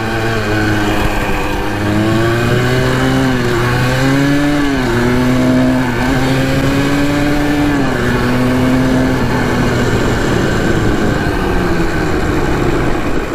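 A Honda ATC 250R three-wheeler engine revs hard and steadily on a top-speed run, a loud, close, continuous whine rising and shifting in pitch through gear changes with no break.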